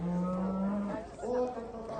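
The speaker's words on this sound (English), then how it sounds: "Lots of moos." Cattle in a Sussex field low out with a long, steady moo followed by shorter overlapping moos from the herd, close and fairly loud outdoors.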